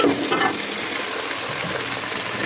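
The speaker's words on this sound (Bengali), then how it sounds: "আলুটা একটু তেলের মধ্যে কষাই নিব আর কি" Potatoes sautéing in hot oil give a loud, steady sizzle that starts with a brief bright splash and then settles into an even hiss, with no speech.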